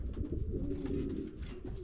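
Homing pigeons coo close by in a loft, a soft, low, throaty rolling call filling a short moment.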